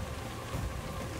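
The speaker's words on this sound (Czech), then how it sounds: "být chráněn před tím kyselým deštěm." Heavy acid rain pouring down in the video game ARK: Survival of the Fittest, a steady dense hiss of falling drops filling the short moment, loud and close, with no voices.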